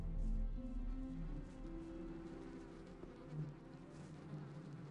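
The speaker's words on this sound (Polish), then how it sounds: "To trochę brzmi jak jakieś muchy, a nie gobliny." Insect buzzing inside a cave in the Gothic 2 video game, a steady droning hum like swarming flies that sounds continuous and moderately loud throughout, with a low rumble beneath and no speech.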